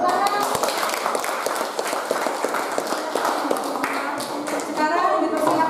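Classroom of students clapping for a group that just finished presenting, dense irregular claps with light chatter and voices mixed in throughout.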